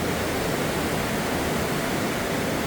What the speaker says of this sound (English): You can see the river over here.